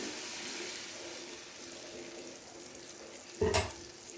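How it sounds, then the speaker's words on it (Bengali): Ginger-garlic paste cooks with sour yogurt in a pan over a low flame, giving a soft, steady sizzle, then a sudden short burst of louder stirring and clatter near the end. "ভাজতে হবে আমাদের, যতক্ষণে না আদা রসুনের কাঁচা গন্ধটা চলে যাচ্ছে"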